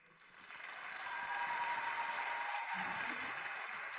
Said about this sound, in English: to your applause, we invite scholarship recipient Basinsa Bufoiksa Marriott